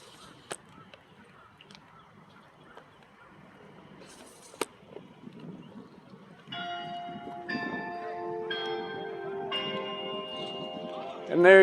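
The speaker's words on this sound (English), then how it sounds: "And there you hear those constant chimes at the church right there." Church bells ring out in a run of sustained chimes after a quiet outdoor stretch near Loganville Library with faint distant noises, clear and moderately far.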